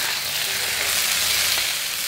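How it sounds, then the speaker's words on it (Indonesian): Oyster sauce poured over winged beans in a hot pan, a loud, close, continuous sizzle and crackle of frying with no talk. "Tuh, bumbu apa, sausnya kita masukin. Saus rasa tiramnya ya."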